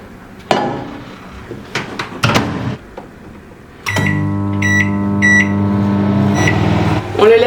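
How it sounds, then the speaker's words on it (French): A microwave oven door clunks shut, a couple of button beeps sound, then the oven hums steadily with a bowl cake inside, loud and close with no talk. "Et on va simplement le mettre dans le micro-ondes."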